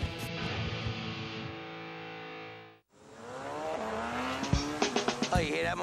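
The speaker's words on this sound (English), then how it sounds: "Oh, you hear that motorcycle?" Engine passing close by: a steady droning run with harmonic layers, a brief gap, then a rising, revving pass that fades, with faint voices and a few sharp knocks near the end.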